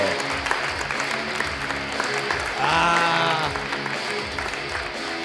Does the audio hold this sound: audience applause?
yes